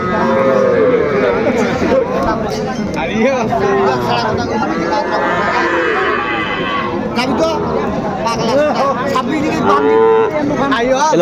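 Four-month-old bull calves at a busy village cattle market low and bellow amid a dense crowd of chattering voices, with people talking close by throughout.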